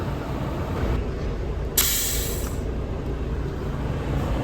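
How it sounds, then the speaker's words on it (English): Air suspension airbags on a road-train trailer hitched to a truck deflate with a sudden loud hiss of escaping air that lasts about a second, then tails off under a steady engine idle. "Let our airbags go down first"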